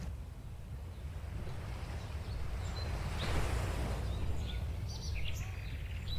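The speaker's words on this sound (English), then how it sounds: "now we're going to add birds to it" Soft bird chirps and tweets scattered over a steady, washing roar like ocean surf, quiet and continuous.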